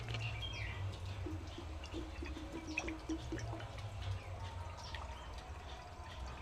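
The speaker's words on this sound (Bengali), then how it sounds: "কড়ার মধ্যে কিছুটা জল দিয়ে দেব।" Water poured into a wok set on a clay stove, a soft steady splashing that stays faint and continuous throughout, with no talk.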